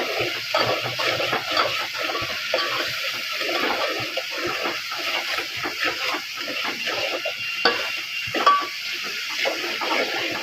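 Soybean vadi curry masala sizzling and frying in hot oil in a pan, a steady close crackle with soft stirring scrapes throughout, no voices present.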